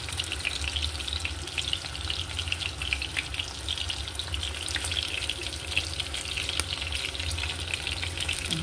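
Bitter melon frying in oil in a pan, a steady dense sizzle and crackle that holds at an even loudness throughout, close up with no talking.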